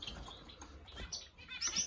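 Japanese sparrows, also called society finches, chirp softly inside an aviary, with scattered faint tweets and a few brief sharper calls near the end over a low, quiet background.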